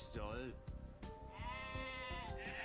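Sheep in the video game Age of Empires II bleat several times, clear wavering cries close up, one after another, mixed with low background game sounds.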